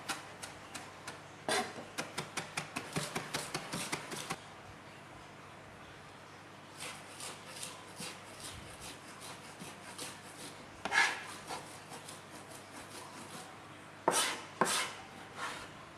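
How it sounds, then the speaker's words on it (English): Ingredients chopped finely with a knife on a wooden board make a fast run of crisp taps, then scattered softer cuts and a few sharp knocks, close and clear with no voices. "we just chop that up nice and fine"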